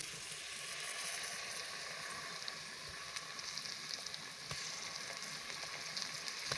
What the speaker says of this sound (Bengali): এখন আমি ধুয়ে রাখা বড় মাছের পিসগুলা মশলাতে দিয়ে দিব।